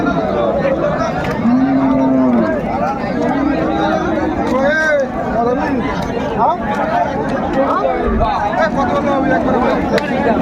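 A Sahiwal cow moos in a long low call amid a noisy crowd of people chattering nearby at a cattle market.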